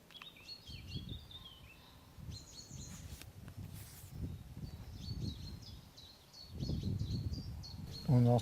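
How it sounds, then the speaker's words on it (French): Small birds near the source of the Orvanne river give high, quick chirps and short trills at a moderate distance, scattered over faint rustling outdoor background noise. "On entend les petits oiseaux."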